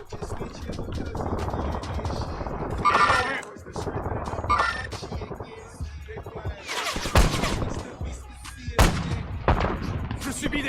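Video game gunfire crackles in repeated bursts with sharp reports and booming impacts over a steady mechanical drone, while a voice speaks throughout the firefight.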